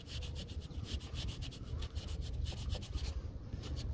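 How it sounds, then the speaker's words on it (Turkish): Wet sanding a deep scratch in car paint with fine 3000-grit sandpaper: a steady, close rhythmic rubbing with repeated back-and-forth strokes and no talk. "Sonra 3000 kum zımparaya geçeceğim."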